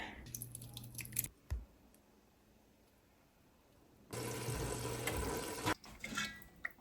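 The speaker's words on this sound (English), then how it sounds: "I'm gonna pour our sauce in here." Enchilada sauce poured through a small kitchen strainer makes a steady liquid rush in two bursts, the second longer, with quiet pauses and faint handling noise between them.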